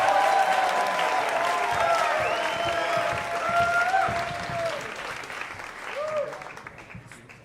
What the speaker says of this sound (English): How about a huge round of applause for your final storyteller, Richard Cardillo?